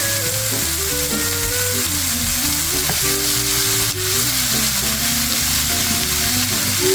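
Broccoli stir-fried in a hot pan for broccoli beef, sizzling loudly and steadily throughout with some stirring, close up and with no talk.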